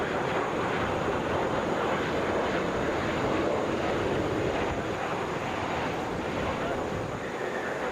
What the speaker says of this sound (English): This is Delta 754 coming in from Detroit. Boeing 737 there.